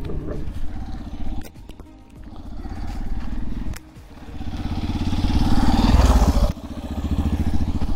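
A 1997 diesel Bullet motorcycle engine runs close by throughout, a loud, steady, rhythmic thumping throb that swells in intensity partway through. No one talks.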